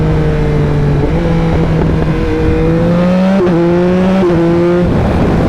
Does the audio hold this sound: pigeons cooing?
no